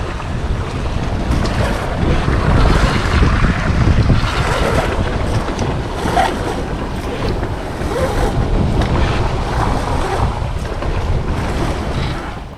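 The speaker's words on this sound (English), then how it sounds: "Roll up the head sail." Sailboat under way in strong wind while the head sail is rolled up: constant loud wind buffeting and rushing water fill the scene, with no voices.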